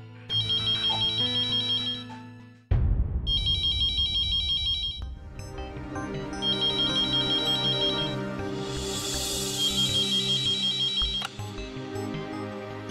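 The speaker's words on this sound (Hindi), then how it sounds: "हम अभी उससे फोन मिलाते हैं।" A telephone ringtone plays as a call is placed in a Hindi TV drama scene, a loud melodic pattern repeating in bursts for the full stretch with no voices over it.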